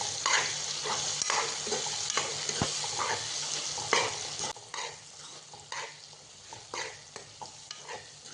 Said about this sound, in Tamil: 4 பெரிய சைஸ் நல்லா பழுத்த தக்காளியை எடுத்து அதையும் இதில் சேர்த்து நல்லா வதக்கிக்கோங்க